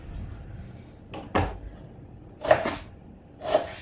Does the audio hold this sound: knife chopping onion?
yes